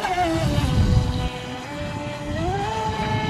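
An Eachine EBT05 brushless RC speed boat's motor whines at a steady pitch, dipping and then rising again as the throttle changes, with a rough water-churning rumble underneath.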